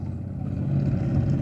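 A small fiberglass boat's electric motor running, a steady low hum with a faint tonal whine, continuous and fairly close with no talk over it.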